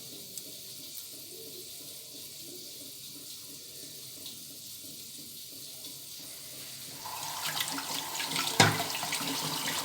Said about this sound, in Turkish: Ellerimi yıkayayım şöyle.